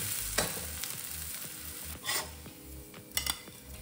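Adai dosa, a thick lentil crepe, cooks on a hot pan just after flipping, giving a steady close sizzle with occasional scrapes and clinks of a utensil against the pan.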